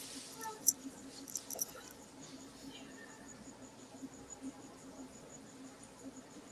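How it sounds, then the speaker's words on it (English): Crickets chirp in a steady high trill outdoors on a cold evening, faint and continuous, with a few brighter clicks near the start over low background noise. "Y'all hear those crickets?"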